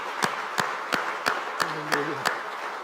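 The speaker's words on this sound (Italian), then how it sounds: "Possiamo fare un applauso al Signore." A church congregation at a Sunday service claps in steady unison, sharp even beats about three per second, with a brief sung or spoken voice tone drifting underneath.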